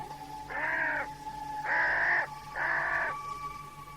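Three loud, close crow caws, each about half a second long and evenly spaced, set against a low steady background hum.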